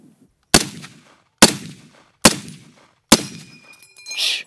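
An M1 Garand rifle fires four loud, evenly spaced shots close by, each with a booming echo, ending in the ringing metallic ping of the clip ejecting when empty.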